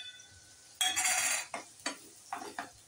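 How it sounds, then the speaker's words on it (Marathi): Onion fries in hot oil in a kadhai on a gas stove, with a loud sizzling burst as it is stirred, then several shorter sizzling scrapes close by. "कांदा छान लालसर तळून घेते"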